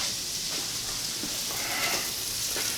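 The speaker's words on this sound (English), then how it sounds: "let this simmer, saute for a second" Vegetables sautéing in a pot for chicken couscous soup give a steady close hiss and sizzle with a few soft crackles, alone without talk.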